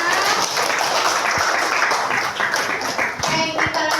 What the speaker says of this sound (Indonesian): Oke, tepuk tangannya mana?